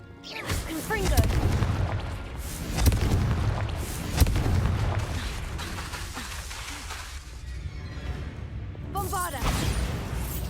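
Hogwarts Legacy gameplay fires the Confringo explosive spell, giving heavy booming blasts and crackling impacts mixed with other bursts and game sound, with a spoken incantation heard among them.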